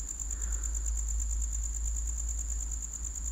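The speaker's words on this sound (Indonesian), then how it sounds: "Kita bisa cek mesin-mesinnya seperti ini." A Toyota Etios engine idles steadily and low, recorded close up with a smooth continuous rumble and faint rattle. There is no speech, and a constant high whine sits in the background.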